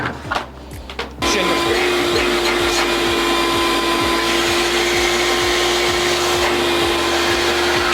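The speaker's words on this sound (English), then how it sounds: "We're preventing all the big chunks from going to the shop vac, ruining the shop vac." A shop vac fitted with an Oneida Dust Deputy 2.5 Deluxe cyclone separator switches on with a sudden roar and keeps up a loud, steady whoosh, with a faint rhythmic ticking running beneath it.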